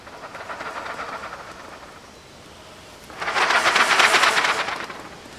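Air is blown through a trumpet held with the lips just off the mouthpiece while the valves rattle, giving a soft breathy hiss that fades, then a louder rushing swell that tapers off, with no talking.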